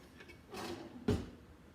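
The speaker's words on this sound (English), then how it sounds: "Now I'm getting a knife out of this drawer." A kitchen drawer is pulled open to take out a knife: a brief sliding rustle, then a single solid knock as it stops. The sounds are close and fairly quiet, and no one speaks.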